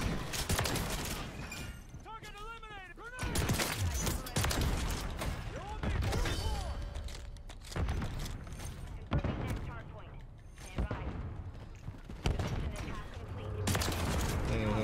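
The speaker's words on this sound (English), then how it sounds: "this shotgun is really fun" Reclaimer 18 pump-action shotgun fire in Modern Warfare III, with repeated sharp blasts and mechanical pump clacks spaced a few seconds apart among other game sounds and fire, loud and close.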